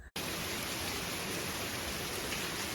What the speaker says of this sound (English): it's almost 7 a.m. and a downpour the day after our huge windstorm.